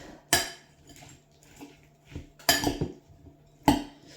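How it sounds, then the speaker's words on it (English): A snack being given a quick mix in a bowl with a utensil: three sharp clinks and scrapes against the dish with quieter rattling between them, close up and with no talking. "give it a quick mix"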